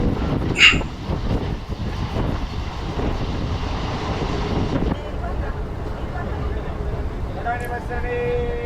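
A crowded MEMU passenger train rolls between Vijayawada and Bhimavaram, a steady loud rumble and clatter of the moving coaches throughout, with a brief sharp squeal near the start and people talking over it.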